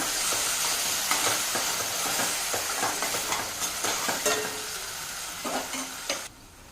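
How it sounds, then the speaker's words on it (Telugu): Ground tomato paste being stirred into a hot pan for a gravy curry, a steady sizzle with repeated scraping strokes of the spoon, close and fairly loud, fading out at the end. "ఇది ఒక టమాటో అండి గ్రైండ్ చేసి పెట్టుకున్నాను అది ఇక్కడ వేసేస్తాను ఇప్పుడు మిక్స్ చేద్దాం"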